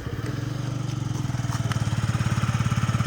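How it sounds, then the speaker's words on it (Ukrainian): A Yamaha Jog SA39 fuel-injected scooter engine running close by, a steady rapid putter with an even pulsing beat that grows slightly louder, with a few light clicks over it. "Дивіться, як заводиться взагалі. І працює"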